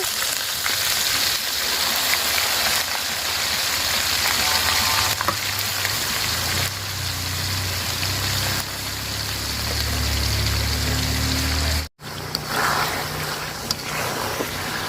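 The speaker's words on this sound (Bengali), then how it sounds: "তো চুলা এগুলা একদম জাল কমাই আমি আস্তে আস্তে ভাজা নিতেছি।" Chicken pieces frying slowly in oil over a low flame, a dense continuous sizzle and hiss that stays steady and close, briefly cut off near the end before resuming, with no talking.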